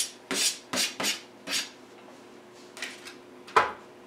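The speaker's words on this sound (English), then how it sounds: "Toss this around a little bit." Venison gyro meat tossed in a warm pan, with a run of quick scraping rasps from utensil against metal, about six separate strokes, close and fairly quiet, with no voices.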